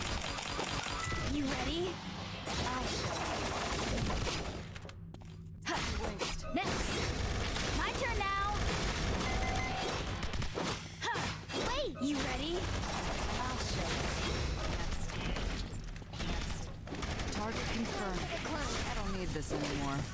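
Gunfire from a rocket launcher, shotgun and assault rifle in the game Eternal Return, with dense rapid shots, crashes and impacts running almost continuously under game voices and music.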